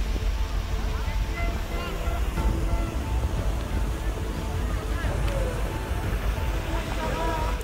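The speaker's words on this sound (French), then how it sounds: "la pluie s'abat sur le stade des Maradas" Rain pours down on an outdoor athletics stadium before a 3000 m steeplechase, a steady, dense, even hiss of falling water that never lets up, with faint voices in the background.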